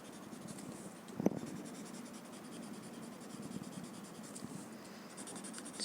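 A pencil blending graphite on paper while drawing a zendala tile, a soft continuous scratchy rubbing, close and quiet, with one brief louder scrape and no talking.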